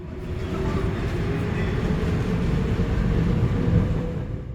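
A train at Yeongdeungpo station produces a loud, continuous rumble with a steady rolling roar that swells slightly toward the end. No one speaks.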